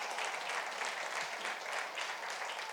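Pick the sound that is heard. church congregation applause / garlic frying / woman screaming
church congregation applause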